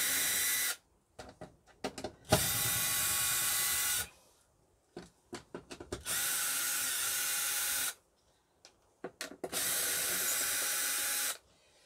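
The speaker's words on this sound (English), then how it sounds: "My trusty cordless drill." Cordless drill whirring in three long bursts, undoing screws on caravan floor mats, with clicks and handling rattles between runs and no talking.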